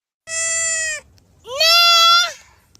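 A goat gives two loud, close bleats, each lasting about a second, with a short pause between them.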